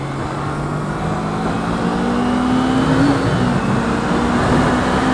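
A 2012 Kawasaki Ninja 250 motorcycle engine drones loudly and steadily near the listener, its pitch climbing slightly as the revs rise and then settling, with no voices.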